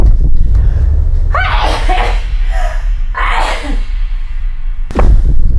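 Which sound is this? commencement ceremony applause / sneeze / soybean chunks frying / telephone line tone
sneeze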